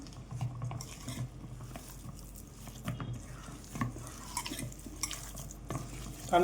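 Vada batter made from ration rice, with carrot, curry leaves and coriander, is stirred and mixed by hand in a bowl, giving soft, uneven wet squelching and scraping with occasional light clinks, close and quiet.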